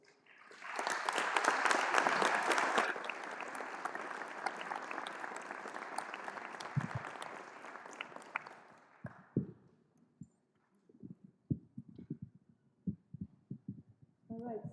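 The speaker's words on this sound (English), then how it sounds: "I will ask you to give a round of applause to Jacques Adler as he's approaching and Marjorie Winterberg" A church congregation at a Sunday service breaks into loud, sustained applause for about nine seconds, then it fades to scattered claps and footsteps as someone approaches.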